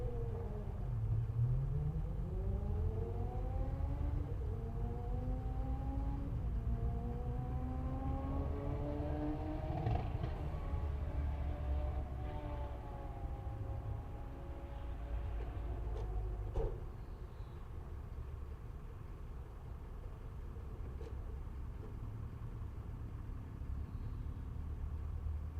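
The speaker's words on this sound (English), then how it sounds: "And there goes Paul Slade in the glorious Jaguar E-Type, crossing the finish line" A Jaguar E-Type race car at a Castle Combe sprint revs through rising gear changes as it passes at a distance. A steady low rumble of the engine and the surroundings continues underneath, with no talking.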